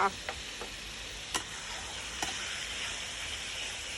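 Garlic goes into pork belly stir-frying with shrimp paste in a pan, giving a steady, faint oily sizzle broken by a few sharp clicks of a utensil against the pan.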